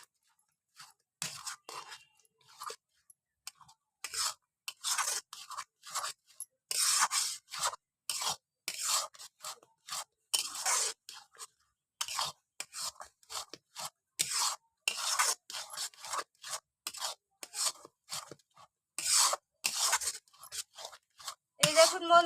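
Coconut sandesh mixture is stirred in a pan, giving quick repeated rasping scrapes in an uneven rhythm, close and fairly quiet, with brief gaps between strokes.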